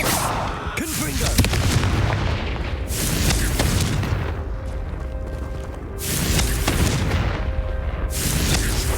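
The Confringo blasting spell in Hogwarts Legacy sets off repeated booming explosions, heavy low blasts with crackling debris that swell and fade several times over a few seconds.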